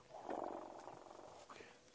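Elephants rumbling to each other, heard from a safari drive as a soft, murmuring low rumble that swells briefly and then fades, faint and some distance off.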